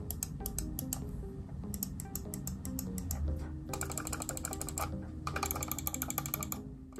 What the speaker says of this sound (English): they really do have a satisfying and purposeful click